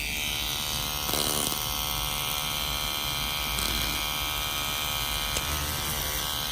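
A Target rechargeable electric oscillating toothbrush runs close by with a steady, even electric buzz and hum that holds level throughout, broken only by faint handling bumps.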